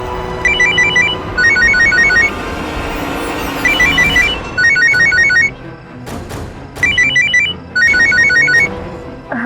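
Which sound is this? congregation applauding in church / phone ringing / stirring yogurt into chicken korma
phone ringing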